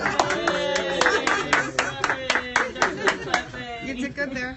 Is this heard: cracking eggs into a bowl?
no